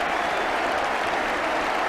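A football crowd at a West Bromwich Albion versus Swansea City match applauds a goal, with steady, dense clapping and cheering sustained throughout and no voices standing out.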